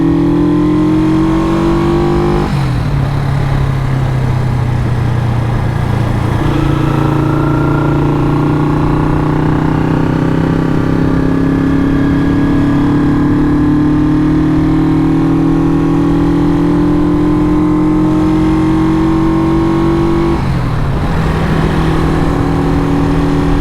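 Honda super sport motorcycle engine pulling steadily while riding, close and loud, with rising tones as it climbs through gears and brief dips at two gear changes; no talk.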